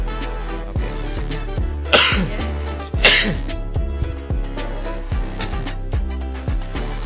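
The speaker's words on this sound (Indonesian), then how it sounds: "Saya masih agak batuk." Two sharp coughs break through a steady music bed, one around the two-second mark and another a second later, fairly close and loud.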